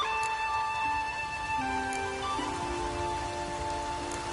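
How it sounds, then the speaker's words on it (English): Steady rain patters in The Witcher 3 under sustained musical tones, soft and continuous throughout. "Raining again."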